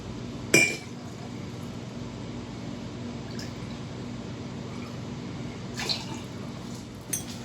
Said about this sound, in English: And now, go with the ice.